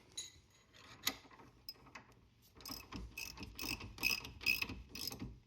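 A ratchet clicks in quick bursts as it tightens a camber shim bolt on a Mustang Cobra independent rear suspension upright. The close, mechanical ratcheting builds steadily and is heard alone.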